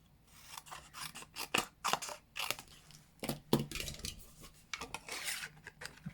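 Paper oval cut with scissors during a card-making craft session with designer series paper: close, crisp snips in an irregular run of short cuts, with no talking.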